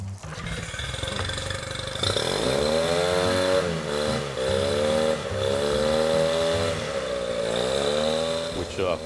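A boat engine idles and revs steadily while warming up, its pitch rising and dipping in a few swells, running loud and continuous throughout.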